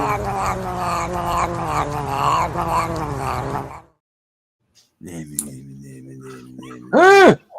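A cat from a well-known internet cat video yowls and meows through a speaker, with drawn-out caterwauling tones, a short silent gap, then a sharp rising cry at the end.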